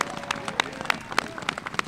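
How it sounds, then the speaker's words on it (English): A room of people at a Brooklyn press event clapping for Misha Porter, brisk uneven applause with sharp individual claps popping out over a busy crowd murmur, fairly close and lively. "give a big round of applause to Misha Porter"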